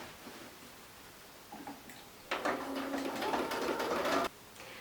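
A sewing machine stitching along the folded edge of baby bloomers, a faint fast whirring run of about two seconds after some quiet handling, with no talking.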